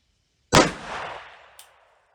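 A single sharp gunshot from a .38 Special revolver firing a Hornady 158-grain XTP handload, outdoors in snow; one loud crack with a decaying echo tail and a faint click near the end.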